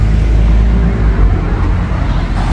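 A bus pulls up at a stop in Bad Dürkheim, its loud close engine rumble and road noise rolling steadily throughout with no voices.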